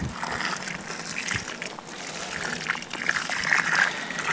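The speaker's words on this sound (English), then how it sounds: "Let's get some water in them as well." Water pours and trickles into deep holes in a fire pit during bushcraft in the Forest of Dean, a faint uneven splashing and dribbling up close.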